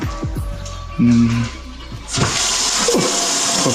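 Water starts gushing from a tap at a trailer park in Colorado and keeps running with a steady hiss, following some brief clunks and a short hum, with no voices.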